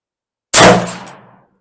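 A single sharp shot from an AMT Auto Mag II .22 WMR semi-auto pistol firing its last round, loud and close, with a bright metallic crack that decays over about a second, with no talk.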